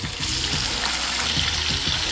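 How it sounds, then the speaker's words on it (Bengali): Sliced onions hit hot oil in a pan for Kolkata-style chicken korma, giving a steady, close, bubbling sizzle that holds without a break. "আমার তেল গরম হয়ে গেছে, পেঁয়াজগুলো আমি অ্যাড করে দেব।"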